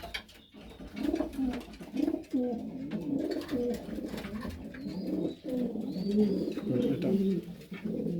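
Racing pigeons in a loft coo repeatedly and close by, layered throaty calls with a faint chirp or two in the background.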